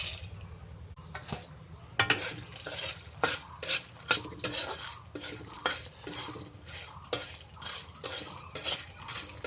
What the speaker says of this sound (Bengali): এখন আমি বড়িটা আস্তে আস্তে ভেজে নেব